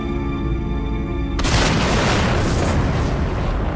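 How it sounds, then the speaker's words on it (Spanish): A supernova star explosion sound effect breaks in abruptly as a loud, broad roaring boom that sustains and rumbles over a low droning musical tone. "Cuando una estrella explota"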